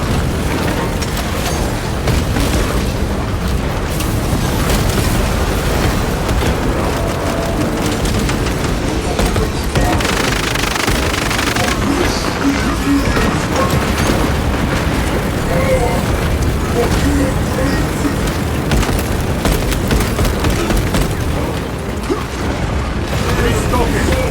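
Grenade blasts and gunfire in the Warhammer 40,000 shooter Space Marine 2 on PS5: dense, continuous battle din with rumbling booms and mechanical clatter throughout, under occasional game voice lines.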